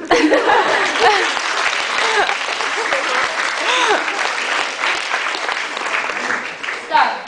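Loud, enthusiastic applause from a large audience at a veterinary prevention graduation ball, with scattered laughter and cheers mixed into the continuous clapping throughout.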